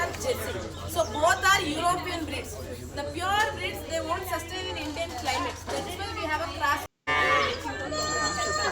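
Cows in a farm cow shed give several drawn-out moos, overlapping with people chatting nearby.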